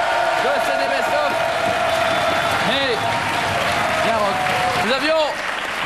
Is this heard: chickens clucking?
no